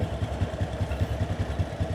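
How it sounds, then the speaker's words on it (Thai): A 2010 Honda Wave 125s motorcycle with its original exhaust idles steadily, its low, even putter pulsing in a quick regular rhythm, close and moderately loud. "นี่สตาร์ทติดเรียบร้อยแล้วนะครับเครื่องยนต์เดินเบานิ่ง"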